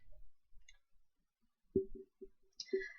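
A computer mouse clicks a few times while form event settings are adjusted in a sales program, with short dry clicks in a small cluster, close and fairly quiet, with no talking.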